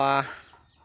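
A chicken on a farm with pens of chicks gives one short, close, tonal cluck, then the sound falls away to quiet background.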